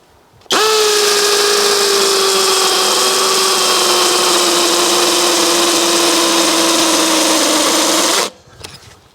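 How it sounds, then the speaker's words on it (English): A Dong Cheng 20V cordless hammer drill set to hammer action runs at full speed for about eight seconds, a loud, close, steady high whine that stops abruptly, followed by a brief rattle. "Put it on hammer action and we'll give it a try"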